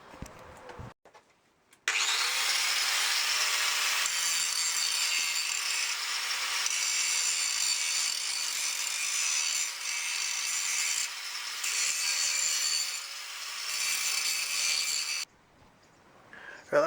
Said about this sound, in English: Right, that's all been ground back. I've ground round the edges.